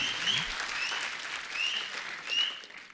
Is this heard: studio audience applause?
yes